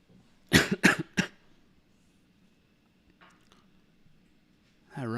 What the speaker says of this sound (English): That run this morning's got me coughing.